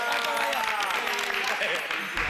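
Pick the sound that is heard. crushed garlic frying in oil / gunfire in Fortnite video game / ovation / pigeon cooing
ovation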